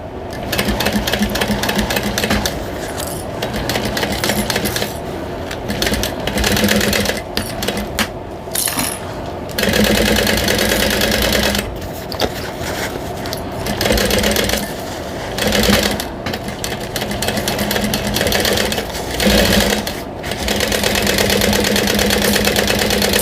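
A sewing machine stitches binding onto a bowler bag, its motor whirring in long steady bursts broken by brief stops, loud and close with no talking.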